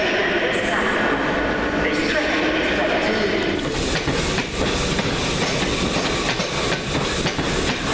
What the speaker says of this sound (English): As you can hear the front of the train,